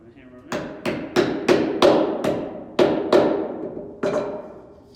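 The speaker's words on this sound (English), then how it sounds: "these are a little tight, but if you want to hammer them in" Hammer blows driving tight wooden dovetail joint pieces together, about nine sharp, loud, close knocks in an uneven rhythm, each ringing briefly before the next.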